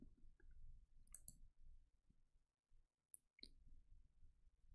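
Computer mouse clicks during a crank-slider linkage simulation, a few faint, sharp, isolated clicks against quiet background with soft low rustling between them.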